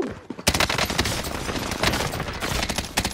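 Video game gunfire as a dense, continuous burst of rapid shots that fills the whole moment, loud and close.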